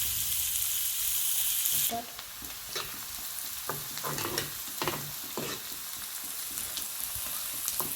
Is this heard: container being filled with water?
no